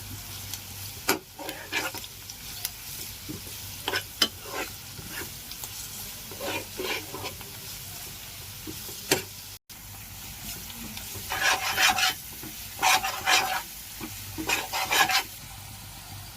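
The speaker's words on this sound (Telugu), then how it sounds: "ఇప్పుడు మనం ఆ ముక్కలన్నీ ఫ్రై అవుతుండగానే అల్లం వెల్లుల్లి పేస్ట్ని కూడా యాడ్ చేసుకోవాలి." Cauliflower pieces for street-style Gobi Manchurian frying with ginger garlic paste, with a steady low sizzle broken by bursts of stirring and scraping in the pan. The sizzling rises to louder, brighter bursts late on, and no one speaks.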